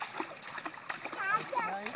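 A young child splashes water in a pool during a first summer swim, light repeated splashes and trickles close by, mixed with a voice and adult talk.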